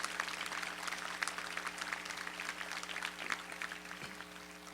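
An audience claps steadily at a university commencement honors convocation, a dense, even wash of applause from a large crowd in a hall, with no voices over it.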